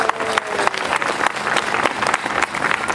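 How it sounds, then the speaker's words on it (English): Audience applause at a Canada Day opening ceremony, a dense wash of clapping from a crowd that holds steady and loud through the whole stretch. "Let's give a big round of applause to such a beautiful country called Canada."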